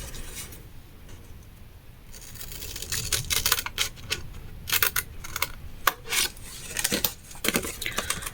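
Scissors cutting a paper card along a drawn line for a pop-up windshield-wiper card: quiet, close snipping and rasping, with a run of short crisp cuts in irregular rhythm after a faint start.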